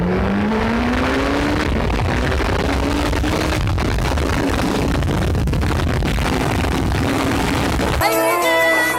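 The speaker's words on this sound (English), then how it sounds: "I just wanted to show you guys how it accelerates." A 2016 Suzuki Hayabusa GSX1300R with a Scorpion exhaust accelerates hard, engine pitch climbing through gears in long loud sweeping pulls with wind roar, ending in a sharp high rev burst.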